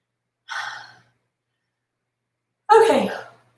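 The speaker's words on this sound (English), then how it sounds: "Sorry I'm yawning" Two breathy vocal exhalations, a short soft one and then a louder, longer drawn-out one, sound like a tired woman's yawns during a home cardio workout, close to the microphone with silence between them.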